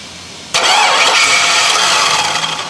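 Chevy Suburban engine cranking and catching after a short quiet lead-in, then running loud and close with a rough, steady roar that wavers slightly toward the end.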